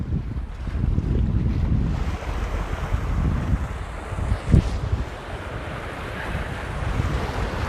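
Ocean waves wash in steadily while wind buffets the microphone, making a constant roar. A sharp thump stands out midway, and no one speaks.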